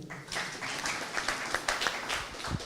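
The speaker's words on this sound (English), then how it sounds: "Can you clap for him?" An audience at a conference on technologically facilitated gender-based violence in Kabianga claps for a presenter. The clapping is lively and uneven, with distinct hand-claps rising and falling over a few seconds and faint voices mixed in.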